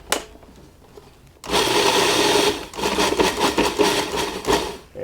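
A food processor quickly blends dry ingredients for a vegan gluten-free lemon cake, starting after a quiet moment with a loud, steady motor whir that pulses and rattles in bursts, with no talking.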